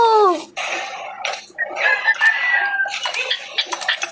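Alpha Dark Chicken creature sounds in the game 99 Nights: a rising squawk followed by rough clucking and crowing bursts, close and loud, with overlapping chatter-like calls.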